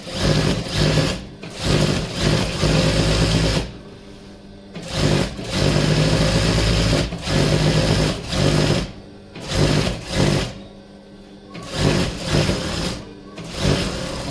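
A sewing machine stitching a single frill onto a petticoat, loud close bursts of rapid whirring stitches separated by short pauses, no talking.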